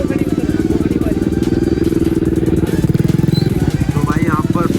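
A modified Kawasaki ZX6R motorcycle engine runs at a bike gathering, loud and close, with a rapid, even rhythmic throb that holds steady throughout, its pulses briefly swelling near the middle.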